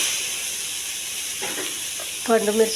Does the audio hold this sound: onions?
yes